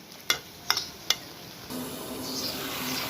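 Malabar spinach stems sizzling in a pan on the stove, with three sharp utensil taps against the pan near the start, then a steady soft frying hiss that grows slightly louder.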